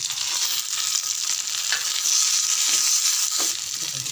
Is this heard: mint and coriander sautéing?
yes